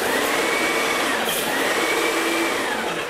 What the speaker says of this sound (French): si je mets en route maintenant, l'eau va couler par le pistolet